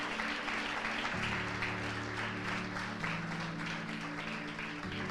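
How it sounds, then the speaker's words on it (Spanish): A church congregation applauds softly under sustained organ or keyboard chords, a continuous, fairly distant patter of clapping lasting several seconds. "la mayoría de los adultos aplaudan bien, porque algunos jóvenes no van a aplaudir"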